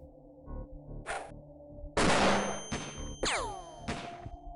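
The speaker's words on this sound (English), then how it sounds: "Sten guy takes a shot" Sten gun bursts in the turn-based game X-COM Files, several sharp separate shots and blasts with ringing tails, close and loud against a quiet background.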